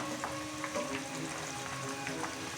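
Aloe vera pieces sizzle in hot oil while homemade hair oil is being prepared, a steady close crackling fry with small pops throughout, no talking.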